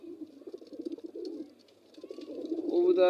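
Pigeons in a home pigeon house cooing close by, soft rolling coos repeating in bursts, with a brief lull and then louder cooing.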